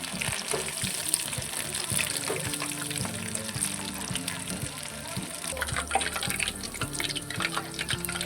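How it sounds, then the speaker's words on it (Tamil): Sweet corn for sweet corn 65 frying in hot oil: a continuous, dense crackling hiss that holds at an even level throughout, close up, with faint tonal sounds underneath. "நம்ம இப்போ இதை பொரிச்சு எடுத்துக்கலாம்."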